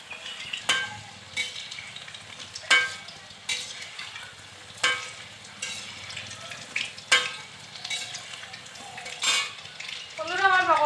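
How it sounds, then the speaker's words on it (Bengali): Chicken pakoras deep frying in hot oil give a steady, close sizzle, broken by repeated sharp clinks and scrapes of a utensil against the pan every second or so. "এইভাবে বাকি পকোড়াগুলোকেও আমি ভেজে নেব"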